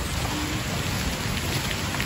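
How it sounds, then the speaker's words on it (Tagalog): Heavy rain pours down in a cemetery, a steady loud dense hiss and patter throughout with no break, close around the listener. "Yan guys, umuulan na, nakikita nyo ba? It's raining."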